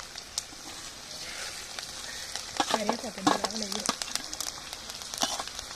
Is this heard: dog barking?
no